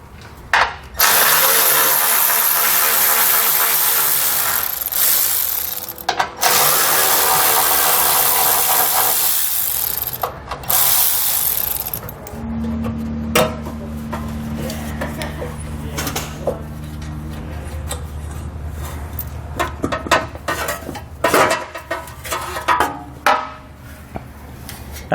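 Ten-millimetre bolts are removed along the back edge of a 2020 Jeep's shield and the shield is lowered during an air helper spring install, with loud power-tool and ratchet whirring in bursts, then clattering and lighter mechanical handling.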